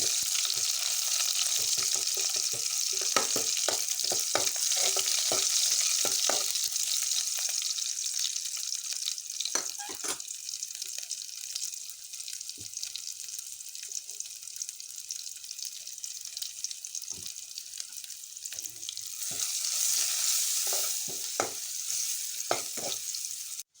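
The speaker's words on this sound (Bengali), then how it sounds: "পেঁয়াজটা একটু ব্রাউন কালার করে ভাজবো" Onions fry brown in oil with turmeric for dal, giving a continuous close hissing sizzle with scattered crackles and stirring knocks that ease midway and swell again near the end, with no talking.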